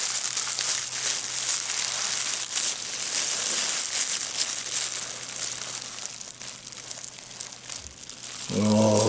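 Knife sawing through a thick sous vide burger stuffed with pastrami, a steady close crinkling and crushing texture that runs for several seconds, followed by a brief clatter at the end.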